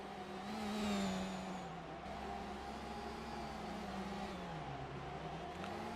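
A Formula 1 car in a racing video game drives down the back straight at Las Vegas, its engine a steady, faint high drone with a slight swell early on and no talk.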